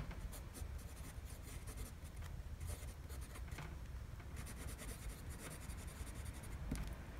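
A fine-nib fountain pen laying a wet, fairly smooth line on paper, producing soft continuous scratchy strokes in short bursts, close and quiet with no talk.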